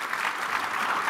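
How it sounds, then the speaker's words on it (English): An audience applauds panelists at the close of a January 2020 annual outlook discussion: dense, steady clapping from many hands that stays loud and even throughout the short burst. "A round of applause for our panelists."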